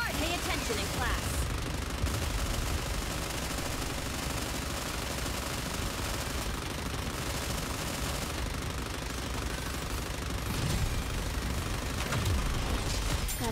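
Relentless gunfire and explosive bombardment in the game Goddess of Victory: NIKKE at Elysion Tower, a dense unbroken wall of rapid shots and booms at high volume.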